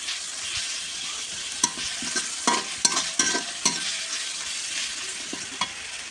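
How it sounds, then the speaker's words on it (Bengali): Onion being fried in oil with garlic paste added, a quiet steady sizzle broken by a series of spoon scrapes and clacks against the pan, close by with no talk. "প্রথমে আমি পেঁয়াজটা একটু লাল করে নিতেছি, তারপর রসুন বাটা দিয়ে দিলাম"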